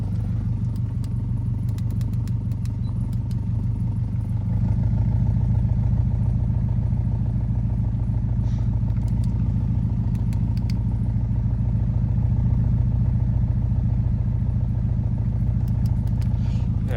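A Subaru Bugeye WRX turbo engine idles roughly with an exhaust leak, a steady low chugging rumble that lifts slightly in level partway through and holds close and continuous.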